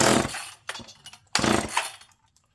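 Two sharp, rasping pull-start bursts from a Homelite chainsaw with its manual decompression valve open, sputtering briefly without catching, with short pauses between pulls.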